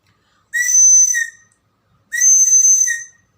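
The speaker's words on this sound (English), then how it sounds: "Yes, whistle." Two long, shrill blasts from a hand-blown whistle, each lasting under a second with a short pause between, loud and close with no other sound.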